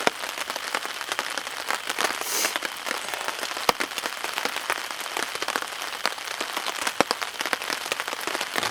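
Steady rain patters on a tarp stretched over a wilderness campsite in the Boundary Waters in spring, a dense, even hiss with scattered sharper drops tapping throughout.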